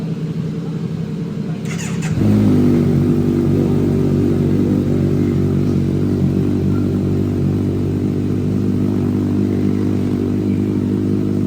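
A Yamaha MT-09 motorcycle engine, imported from Dubai, starts after a short cranking whir and settles into a loud, steady, deep idle with a firm, even throb that holds close by and unbroken to the end.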